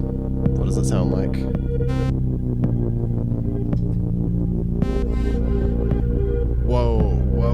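Sustained, humming Moog Sub 37 synthesizer tones with eerie swelling washes that rise into each note, a reversed reverb effect on an RC-505 looper, steady and loud throughout.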